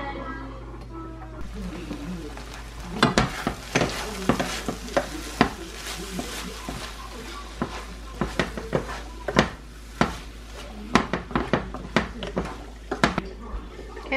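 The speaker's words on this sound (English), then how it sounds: "We're just gonna kind of leave this alone now and let it cook, stirring occasionally until it's all creamed up." Fried corn crackles and sizzles in a pan while a utensil scrapes and clacks against it in irregular bursts, close up over a low steady hum, with a voice now and then.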